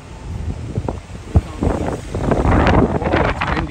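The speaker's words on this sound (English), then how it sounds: "Whoa, it's windy." Strong wind from Hurricane Ian roars and buffets the microphone outdoors, a steady loud rush with sharper gusts throughout and a faint voice briefly in the background.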